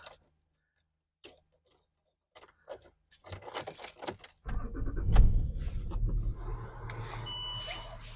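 A bunch of car keys jangles and clinks in short bursts after a quiet stretch, then a car engine rumbles to life beneath the rattling.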